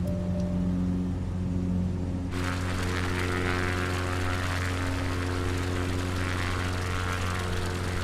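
Steady, droning propeller aircraft engine in Microsoft Flight Simulator 2020 on a Patagonia bush flight, a constant near hum that swells into a louder, brighter roar partway through and then holds unchanged.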